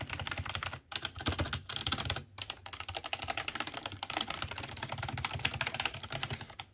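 Keys tapping on a Razer Cynosa V2 membrane keyboard, a steady run of soft, muffled keystrokes with a couple of brief pauses, close by and fairly quiet with no talking.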